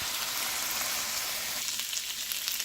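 Food fries in a pan while being stirred, a steady close sizzle with faint scraping movements throughout and no voices.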